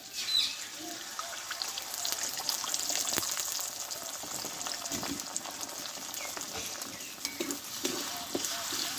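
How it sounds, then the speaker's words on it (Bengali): Beaten egg seasoned with salt and chaat masala fries in hot oil, a soft, steady crackling sizzle that runs continuously, with occasional faint clicks and scrapes from stirring. "এভাবে একটু ডিমটা একটু ভেজে নেবো আগে"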